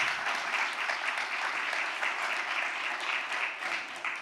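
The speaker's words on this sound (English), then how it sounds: "A round of applause for them" An audience applauds for the hosts at a gathering at the African American House, a steady, dense wash of clapping that holds evenly throughout.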